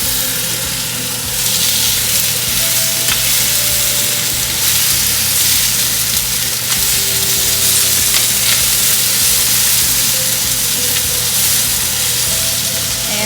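Pork and a large heap of onions fry hard in a pan, giving a loud, dense, continuous sizzle with occasional stirring scrapes.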